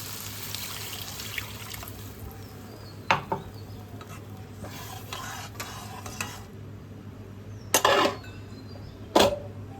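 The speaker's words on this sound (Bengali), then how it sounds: "এবার আমি জল ঢেলে দিচ্ছি" Water is poured into fried potatoes and spice masala cooking in a pan for a vegetarian paneer curry, with a soft steady sizzle, light stirring and a couple of sharper splashy bursts near the end.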